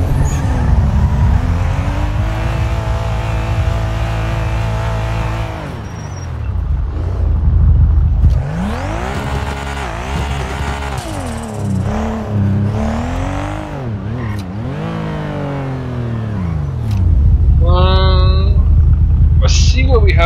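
Lamborghini driven in GTA V roleplay, engine revving and shifting through rising and falling pitch sweeps, loud and close, with people talking over it at times.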